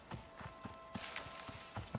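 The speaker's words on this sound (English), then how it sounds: "Oh, I think there were more horses around here." Horses walking in the survival video game Icarus, a steady run of soft clip-clop hoof falls with a faint tonal hum behind them, moderately distant.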